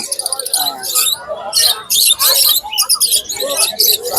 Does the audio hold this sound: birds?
yes